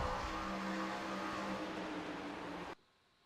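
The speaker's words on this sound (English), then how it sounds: "You can hear me lock the back end up." An 87 Cup race car in iRacing at Dover Motor Speedway gives a steady, whining engine and tire drone with sharp tonal overtones. The sound runs loud and even for nearly three seconds, then cuts off abruptly to near silence.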